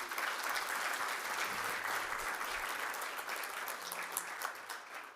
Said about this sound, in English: if we can give them all a round of applause